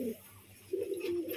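Biscuit-coloured female pigeons coo softly in two low, brief bursts separated by a pause, close and faint, with no voices.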